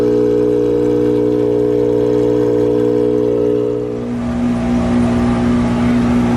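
Loud, close engine of a Ferrari-type sports car, a sustained deep rumble with a strong steady drone that shifts in pitch partway through as the note changes, no talk over it.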